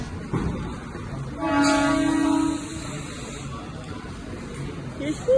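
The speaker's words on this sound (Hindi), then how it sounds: "ट्रेन जा रही है।" Horn of the Gitanjali Express (train 12859, Mumbai to Howrah) sounding from about 1.4 to 2.6 seconds with a steady multi-harmonic tone over station or carriage ambience, loud and fairly close.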